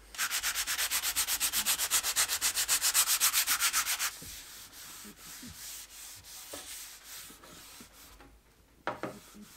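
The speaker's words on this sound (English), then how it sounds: "I'm just going to put one little rub over of beeswax" Beeswax finish is rubbed briskly onto wooden boards in fast, even back-and-forth strokes for several seconds, then the strokes turn slower and scattered with light knocks and a final thump.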